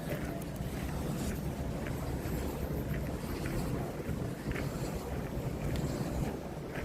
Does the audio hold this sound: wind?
yes